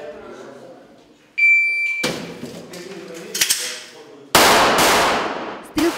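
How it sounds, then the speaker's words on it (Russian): Sharp, loud bangs crack out at irregular intervals at a shooting competition, several close shots with echoing tails, and a brief electronic beep sounds early on. "Стрелки показывали навыки точной и скоростной стрельбы"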